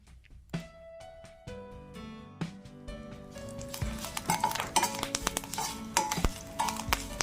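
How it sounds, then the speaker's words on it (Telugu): Curry leaves fry in a pan while a utensil stirs them, giving scraping and metallic clinks over a soft sizzle that grows busier after the first few seconds. "క్రిస్పీగా అయ్యేంత వరకు, గ్రీన్ కలర్ పోకుండా ఉండేంత వరకు మనం కరివేపాకు వేయించుకుంటూ ఉందాం."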